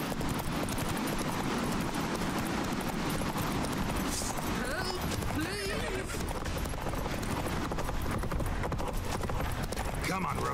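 Hooves pound in a steady gallop as a horse is ridden across Skellige in The Witcher 3: Wild Hunt, continuous and fairly close beneath busy game audio, music and a few brief whinnies.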